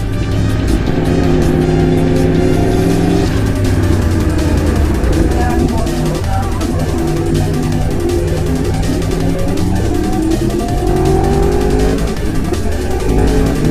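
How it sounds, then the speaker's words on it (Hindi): A Yamaha R1 sport motorcycle's crossplane engine revs loudly and up close, its pitch rising and falling in repeated throttle blips with a harsh, rumbling exhaust and backfires. "बड़े ब्यूटीफुल बैकफायर मारती है यार ये"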